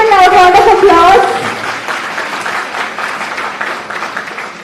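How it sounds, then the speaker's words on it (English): An audience at an annual law lecture breaks into applause, with a voice speaking over the first second before the clapping continues as a steady, slowly fading patter. "Please give a loud round of applause."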